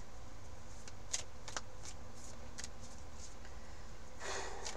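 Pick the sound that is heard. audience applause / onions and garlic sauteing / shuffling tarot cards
shuffling tarot cards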